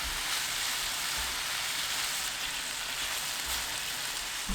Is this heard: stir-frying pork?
yes